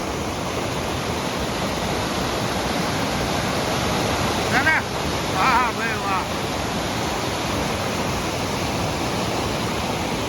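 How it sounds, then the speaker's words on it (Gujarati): A waterfall pouring from a dam overflowing in heavy monsoon rain roars as a loud, constant rushing wash throughout, while a man briefly exclaims over it midway. "આ ધોધ જુઓ"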